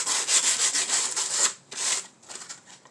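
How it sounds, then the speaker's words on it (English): Sandpaper rubbing over a small primed wooden ornament sleigh, steady loud scraping strokes for about a second and a half, then shorter, lighter passes with gaps, no talking. "sand it down"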